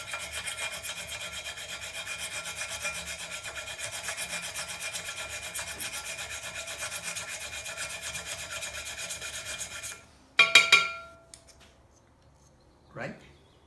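Stainless steel pottery trimming tools rubbed against a sharpening surface in a steady rasping scrape for about ten seconds, then a few short, louder scrapes and a faint final stroke.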